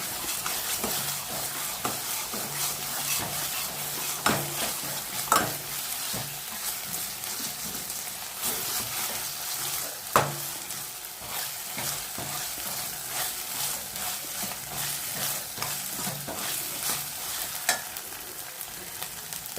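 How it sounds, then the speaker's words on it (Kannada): Onion and ginger garlic paste frying in a pan for a simple vegetable masala, a continuous hissing sizzle with frequent scraping stirs and occasional sharper clacks of a spoon on the pan, heard close with no talk. "ಅದನ್ನು ಸ್ವಲ್ಪ ಹಸಿ ವಾಸನೆ ಹೋಗೋ ತನಕ ಹುರ್ಕೊಳ್ಳೋಣ."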